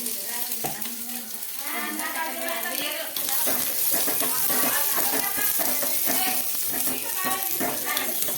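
Onions sizzle and crackle loudly in hot oil with tempering spices while stirred, with scraping of a utensil against the pan.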